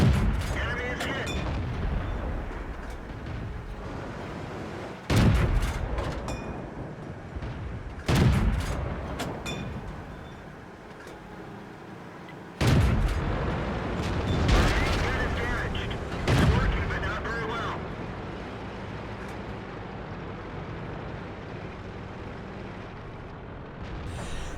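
Tank cannon fire in the tank battle game World of Tanks on the Murovanka map: several heavy booming shots spaced a few seconds apart over continuous engine rumble and battle noise.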